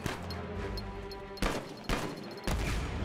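Gunfire bursts from a video game trailer shown at E3 2015: three loud, abrupt blasts land about once a second over a dense, rumbling game-audio backdrop.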